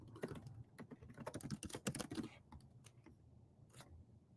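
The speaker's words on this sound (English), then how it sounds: "I'm just typing minikube start again" Quick, uneven clacking of computer keys during a Kubernetes cluster setup, a dense burst of keystrokes followed by sparser taps, close and fairly quiet with no talk.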